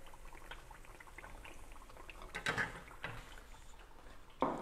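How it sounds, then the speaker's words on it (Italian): Turdiddri, Calabrian fried dough pastries, sizzle in hot oil in a home kitchen: a faint, steady crackling hiss with a few sharper pops and spits near the end, and no one speaking. "Io ancora continuerò a friggere qua, vedete?"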